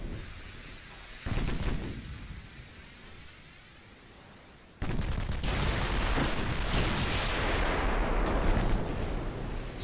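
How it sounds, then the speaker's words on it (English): Heavy 6-inch naval guns fire in a video game naval battle, a dense sustained roar of booming gunfire and impacts that jumps louder midway and stays loud, with no talk over it. "We even got the 6-inch guns hitting."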